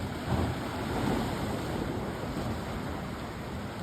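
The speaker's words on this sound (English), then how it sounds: "If I talk less, Emily, you'll hear the ocean sounds more." Ocean waves wash and surge steadily at Terrigal beach on the NSW Central Coast at sunrise, a continuous broadband roar with wind buffeting the microphone and no talking.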